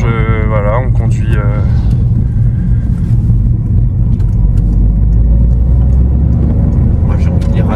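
A DS3 car driving on the road, a steady low engine rumble and road noise filling the cabin while someone talks over it.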